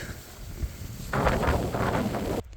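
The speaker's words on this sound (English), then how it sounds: "getting a bit windy." Gusty wind buffets the microphone with a steady low roar that rises and holds for a couple of seconds before cutting off, outdoors while hunting wallabies.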